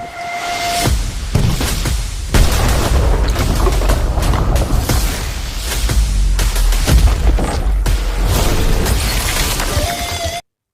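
Titan grenade blasts and super slam shockwaves in Destiny 2 Crucible play, a string of loud booming explosions with crackling bursts that overlap in a dense, continuous barrage before cutting off abruptly.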